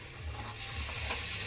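Onions fry in oil for chicken biryani with a soft, continuous sizzle and a faint stirring rustle, close but quiet in a short, steady burst.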